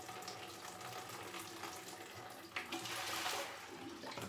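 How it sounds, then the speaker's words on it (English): Lukewarm water poured over hands during a rinse, a steady close splashing and trickling wash lasting about four seconds, with a brief louder gush partway through. "I will like just pour the lukewarm water in the way I'm going to rinse my hands."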